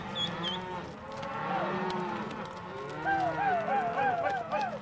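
Cattle lowing during a cattle drive in the Rocky Mountains, several drawn-out moos rising and falling over a steady herd murmur, with hoof noise and a few voices mixed in.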